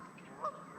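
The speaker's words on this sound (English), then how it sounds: "Loud ass birds. And geese don't play." A single brief goose honk, faint and somewhat distant, at a fishing tournament setting, with quiet background around it.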